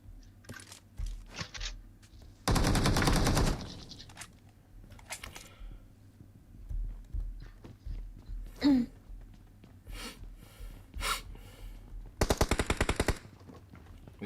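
Gunfire in the mobile battle royale game PUBG Mobile, with loud bursts of automatic fire and scattered single shots spread across the clip, some near and some sharper, between stretches of quieter game ambience.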